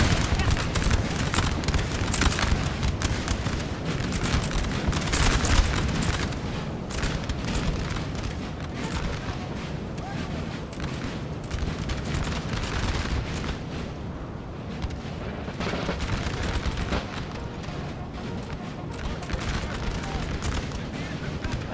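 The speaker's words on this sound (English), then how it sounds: "Britain and the Redcoat with another sounding volley, sending their American cousins packing" Musket volleys crackle and roll almost without a break in a Napoleon: Total War multiplayer battle, with British Redcoats firing against American troops over dense, distant battle noise, while someone talks throughout.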